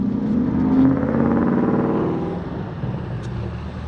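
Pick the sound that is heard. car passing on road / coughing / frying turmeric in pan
car passing on road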